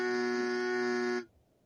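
A game-show buzzer sounds once, a loud flat electronic drone lasting just over a second before cutting off abruptly into quiet.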